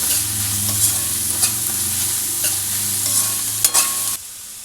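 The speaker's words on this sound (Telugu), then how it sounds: "ఇప్పుడు వెజ్జీస్ ఫ్రై అవుతున్నాయి కదండి" Vegetables for vegetable fried rice fry in a pan, a loud continuous sizzle broken by occasional spatula scrapes and clanks, then ending abruptly.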